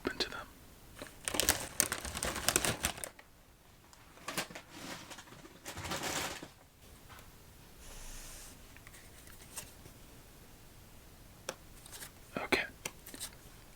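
A bag of Lay's chips is torn open up close, with loud crinkling, rustling bursts of plastic that come and go, under soft whispered speech.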